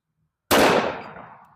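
A single sharp, loud gunshot from a Chiappa Rhino 30DS .357 Magnum revolver fired outdoors, its crack followed by a decaying ringing tail over about a second.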